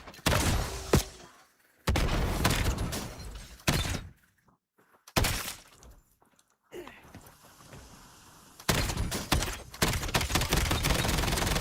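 Machine gun fire in a video game comes in several loud bursts of rapid shots, each lasting a second or two, separated by near-silent gaps and a stretch of softer rumbling.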